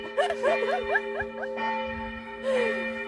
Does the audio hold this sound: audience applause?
no